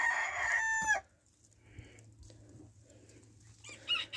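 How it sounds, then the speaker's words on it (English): A half asil, half hatch game rooster crows loudly and close for about a second, then goes quiet among soft farmyard background noise, with another short call near the end. "he is a nice looking little rooster"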